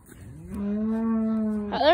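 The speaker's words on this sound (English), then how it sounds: "There's my cow herd." A cow in a herd gives one long, steady, close moo that rises into a higher, strained call at the end.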